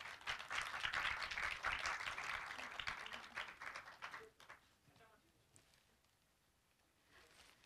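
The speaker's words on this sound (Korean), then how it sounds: "여러분 박수로 축하해 주시기 바랍니다" Audience applause at the Korea Online Journalism Award ceremony, a dense steady clapping crowd for the grand prize winner that fades out partway through, leaving quieter room sound and scattered claps.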